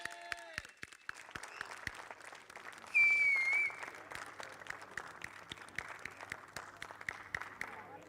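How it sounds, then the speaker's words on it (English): Race-day crowd at an outdoor academy horse race in Abu Dhabi claps for the winner, scattered sharp hand claps building into sustained applause, with a brief whistle and an announcer speaking over it. "please give a huge round of applause for Dan Alleman!"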